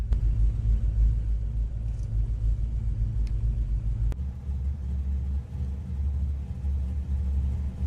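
A 1978 Pontiac TransAm engine idles in Gran Turismo Sport, a steady deep low rumble holding throughout, with a brief shift in tone partway through.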